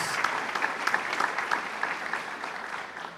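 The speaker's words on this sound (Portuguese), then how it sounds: "Vamos aplaudir o nome de Jesus." A church congregation applauds during a worship service, a steady wash of many hands clapping at moderate distance, fairly soft and even throughout, with faint voices underneath.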